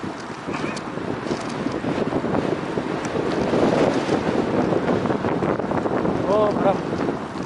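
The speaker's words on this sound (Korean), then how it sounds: "바람." Steady wind buffets the microphone by the sea along the Ara waterway in Incheon, a continuous rushing roar with faint voices briefly audible beneath it.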